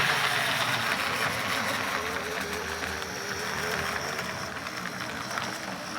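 A repaired model train locomotive motor whirs steadily with a faint, even buzz and light rattle, quiet and continuous.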